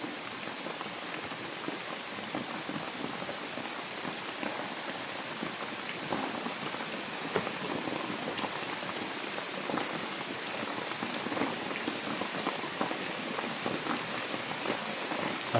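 Steady rain pours down, a constant close hiss of drops hitting surfaces that holds even from start to finish, with no voices.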